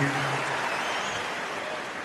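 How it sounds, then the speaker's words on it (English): Tennis crowd at the Australian Open 2016 quarterfinal between Federer and Berdych applauds steadily, a dense wash of clapping from a large stadium audience holding at an even level throughout. "Big applause from the crowd, and rightly so."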